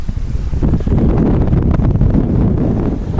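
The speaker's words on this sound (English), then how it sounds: "It's getting windy." Strong wind buffets the microphone in a steady, loud roar with gusty rumbling while kayaking, and no voices are heard.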